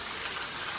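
Heavy rain pours down in Surat, a brief, steady, dense hiss of drops hitting surfaces with no break in the downpour.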